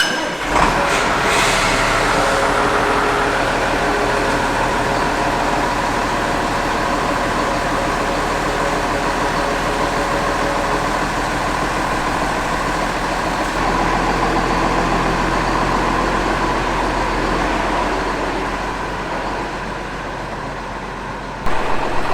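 A heavy Magnum tractor engine drones continuously from inside the cab as it rolls along a road, a loud steady rumble with broadband road noise throughout.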